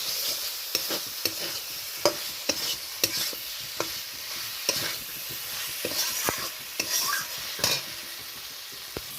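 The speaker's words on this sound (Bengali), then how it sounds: "আলুগুলো মশলার সাথে আর একবার ভালো করে নেড়ে নেব।" Fried potatoes are stirred into sizzling spice masala in a pan. A continuous hiss of frying runs under repeated clicks and scrapes of a spoon against the pan.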